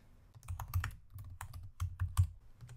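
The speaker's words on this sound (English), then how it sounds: "So we type make release." Quick, close keystrokes on a computer keyboard as a command is typed, a soft irregular patter of clicks with no talking.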